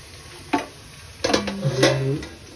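Tempering (phodni) sizzling in hot oil for crispy okra (bhendi), with short bursts of frying and stirring that swell and fade over a couple of seconds and a faint clink of a pan, with no talking.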